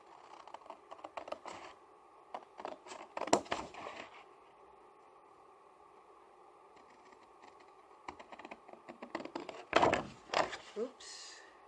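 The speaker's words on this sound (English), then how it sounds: "You cut it out with your big scissors and you put the lines in place" Big scissors cut through paper for a diamond-shaped jewelry box in short bursts of crisp snips and rustling, separated by quiet gaps, with a voice speaking softly nearby.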